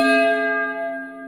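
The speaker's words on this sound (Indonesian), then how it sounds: "Bel istirahat telah dibunyikan." A school break bell rings with a single sustained, clear metallic tone that decays slowly over about a second, loud and alone with no voices.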